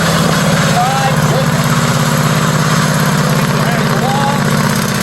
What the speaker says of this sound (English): Already I can see I'm being drowned out by that radial Continental 575 engine.